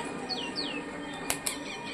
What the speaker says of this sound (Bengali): আগে ছেড়ে দেবো আমাদের কালশিরা পায়রাটাকে